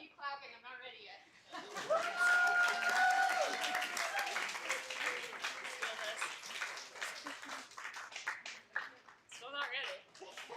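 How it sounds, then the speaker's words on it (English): A bar audience at an astronomy talk claps after the speaker finishes, a dense patter of clapping mixed with laughter and chatter that builds and then thins out. "Keep clapping, I'm not ready yet."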